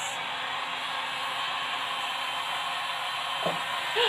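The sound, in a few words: hair dryer drying paint on a side table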